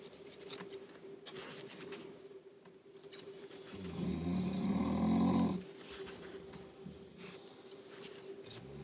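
Scissors trimming the fabric of a sewn dress, producing soft close snipping and slicing noises with a steady low hum behind, and no talking.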